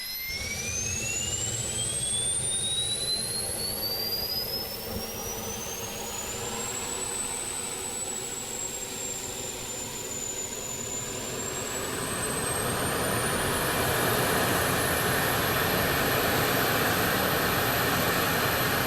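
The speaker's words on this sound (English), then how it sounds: "that's the micro turbo fired up. APU is now running" A SEPECAT Jaguar's micro turbo APU runs in Microsoft Flight Simulator, a steady turbine rush under a thin whine that climbs in pitch and settles into a high, sustained tone, with the rumble swelling slightly near the end.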